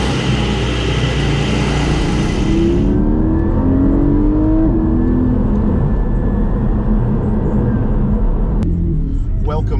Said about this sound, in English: Welcome to the inside of the GT4 Clubsport.